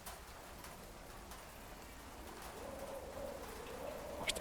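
Rain falls steadily on the ground in a video game, a soft, even patter with a dove cooing faintly in the background and no one talking.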